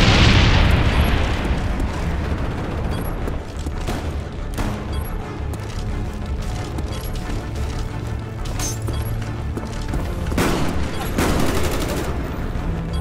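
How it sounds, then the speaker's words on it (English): Bomb strike explosions in Call of Duty Black Ops, a dense continuous barrage of booms and rattling gunfire with several sharp blasts standing out, loud throughout. "Bomb strike inbound."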